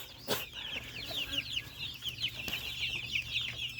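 Broiler chickens on a farm, about two weeks old, clucking and peeping continuously at a moderate distance, a busy overlapping flock chatter with a few sharper calls standing out.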